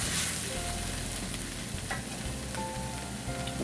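Paprika being stirred into a hot frying pan for Swiss steak, a steady sizzle with scraping and clinking of the utensil against the pan at irregular moments, close up and without talk.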